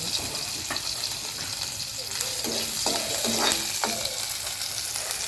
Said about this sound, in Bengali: কড়াতে দেখো দু চামচ তেল দিয়েছি সর্ষের তেল এবার আমি দিয়ে দিলাম এই যে আদা আর কাঁচা লঙ্কা বাটাটা